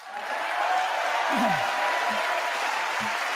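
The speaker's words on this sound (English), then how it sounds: "They're clapping." An audience claps during a State of the Union address, a steady, fairly loud wash of applause that fills the whole stretch, with a brief low voice cutting in partway through.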